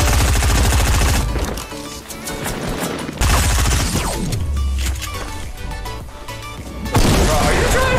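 Gunfire in the video game Fortnite, a dense rattle of rapid shots in loud bursts broken by short pauses, mixed with building and impact sounds from the game.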